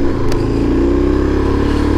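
A Suzuki DRZ 400 dual-sport motorcycle runs steadily while riding, its single-cylinder engine giving a loud, close, even drone with a slight rasp and a brief clatter early on, no voices over it.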